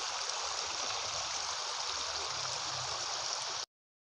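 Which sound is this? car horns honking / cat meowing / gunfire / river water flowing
river water flowing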